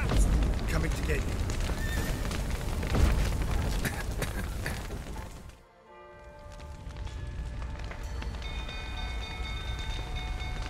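Horses whinny and neigh in a video game, their calls loud over a busy mix of game noise and talking voices, with a sudden drop to quiet midway before the scene's sound returns.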